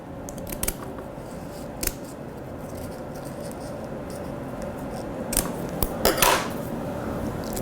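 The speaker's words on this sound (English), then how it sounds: "And now I can cut off any redundant mesh." Surgical scissors snip off redundant mesh during an inguinal hernia repair, a few sharp, faint metallic clicks and cuts scattered over quiet operating-room background.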